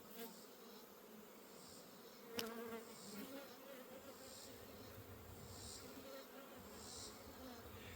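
Honeybees buzz steadily around a hive, forming a soft, continuous drone of many insects with a brief sharp knock partway through. No voices are heard.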